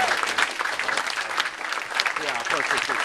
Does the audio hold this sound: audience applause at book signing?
yes